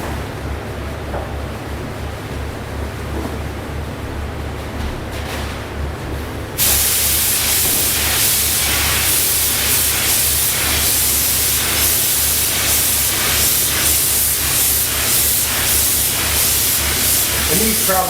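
A spray gun sprays toner onto door faces as a steady hiss. The hiss grows much louder partway through and then continues as close, continuous noise with faint pulsing.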